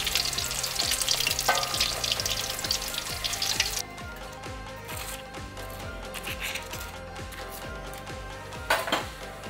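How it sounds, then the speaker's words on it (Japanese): Pacific saury pieces deep-frying in hot oil, a close, steady, bubbling sizzle that is loud and bright at first and then settles into a softer, quieter crackle, with no talking. "このままいい感じに色づくまでサクッと揚げていく。"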